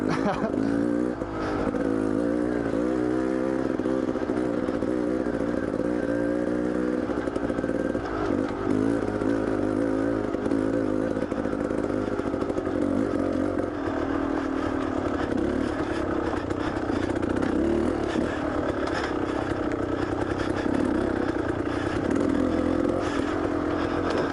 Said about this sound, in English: the Front Range obligatory dirt bike luge section